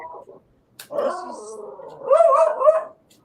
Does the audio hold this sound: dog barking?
yes